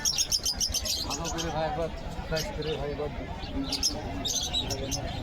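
Pigeons coo softly amid chirps and bird calls while people talk nearby at the busy Beldanga market, where pigeons and rabbits are sold.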